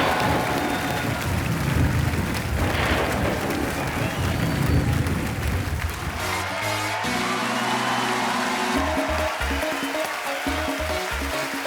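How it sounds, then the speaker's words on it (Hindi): Studio audience on a TV comedy show applauding to welcome a guest, steady loud clapping and cheering from a large crowd that carries on as music starts up beneath it. "आप सबकी जोरदार तालियों के बीच इनवाइट करना चाहूंगा, very talented, please welcome Huma Qureshi."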